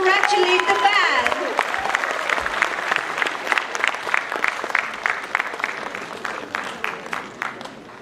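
Big round of applause from a crowd at a state-level school battle-of-the-bands final, loud and steady clapping that gradually thins over several seconds.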